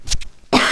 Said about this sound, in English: I still got that stupid cough from that virus.